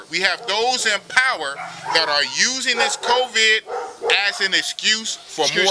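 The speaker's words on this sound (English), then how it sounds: "Yeah, excuse the dog." A dog barking and yipping repeatedly close by, its rapid bursts overlapping someone talking throughout.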